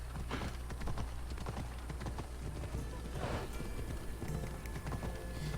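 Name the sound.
horse hooves galloping in Assassin's Creed Odyssey video game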